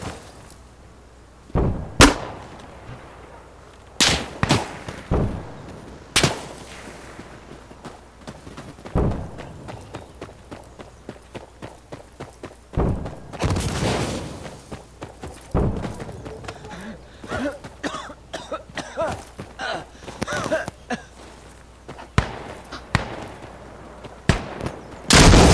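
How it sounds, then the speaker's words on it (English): Chemical artillery rounds and gunfire in the video game Insurgency Sandstorm, heard as sharp, loud irregular blasts and thuds spread over the whole span, with voices talking between the impacts. "Firing chemical rounds!"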